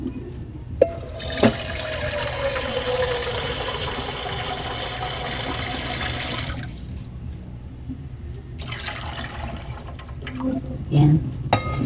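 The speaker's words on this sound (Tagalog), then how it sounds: "At sasabawan na po natin. Lagyan na po natin ng sabaw." Broth poured into a pot for macaroni soup, a continuous splashing liquid pour for several seconds, close by, with voices talking over it.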